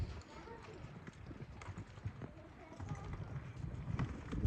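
A horse's hooves clip-clopping at a park, irregular soft thuds and knocks at moderate distance, with people talking intermittently over the steps.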